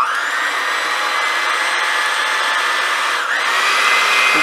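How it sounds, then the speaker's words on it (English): An electric mixer beats egg whites with sugar for meringue, a loud, steady high-pitched whine that holds continuously and close throughout. "we gotta beat it until it's foamy"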